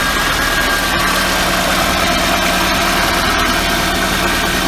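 A car engine idles steadily and loudly after the alternator's diode bridge has been replaced, a continuous rumble with a faint whine and no talking.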